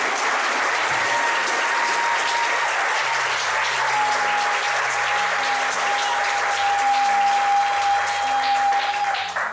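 Wedding guests applaud in a dense, steady roar of clapping that runs loud and unbroken throughout, with no voices standing out above it.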